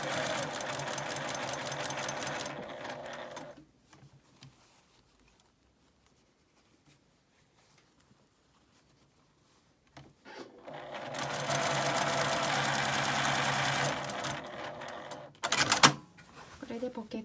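A sewing machine stitches a tote bag pocket in two loud continuous bursts of rapid whirring, separated by a quiet pause, with a short final burst near the end.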